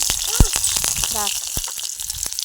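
Green chili and tomato hitting hot oil in a Bengali fish curry pan, a soft steady sizzle with small pops and clinks, under a speaking voice.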